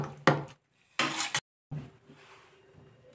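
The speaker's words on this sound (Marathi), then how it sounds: "मॅश करून घेणार" Cooked pressure-cooker vegetables for pav bhaji are mashed in a metal pot, giving two short bursts of clattering, scraping utensil-on-pot clanks separated by brief silences, then a quieter soft rumble.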